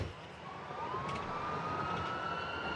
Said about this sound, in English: We'll go lights and sirens.